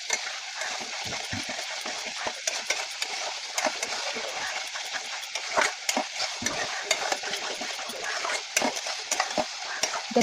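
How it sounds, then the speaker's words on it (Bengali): Spiced bhetki fish bones are sautéed and stirred in a pan: a low crackling fry under repeated scraping and clinking spoon strokes, irregular and fairly close. "এটা একটু কষাতে লাগবে, না কষালে এই ভেটকি মাছের কাটার রান্নার টেস্ট হয় না"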